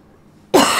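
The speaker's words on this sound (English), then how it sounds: "Sorry about the coughing" A single sharp cough bursts out after a half-second of near silence, loud and close, with the rough tail trailing to the end.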